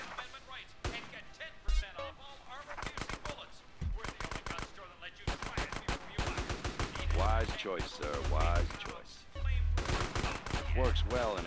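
Rapid bursts of assault rifle fire from an AK or M4 in GTA San Andreas, loud and close, with sharp repeated cracks in volleys and short pauses between them, alongside game music and voices.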